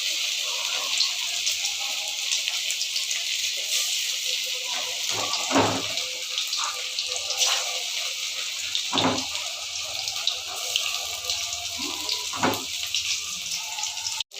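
Meat pakoras frying in hot oil, a steady bright sizzling hiss throughout, broken by a few soft clinks and pops as pieces drop in, with faint talk in the background.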